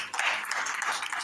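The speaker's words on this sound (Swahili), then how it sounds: "Pigia Yesu makofi mazuri." A church congregation clapping, a brief burst of dense applause lasting about a second, moderately loud and slightly distant.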